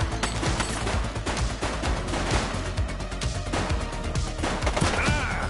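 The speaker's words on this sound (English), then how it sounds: "He's shooting!" Gunfire in the police game The Precinct: dense, continuous bursts of rapid shots and impacts layered over a busy game mix, with no pauses and no talk.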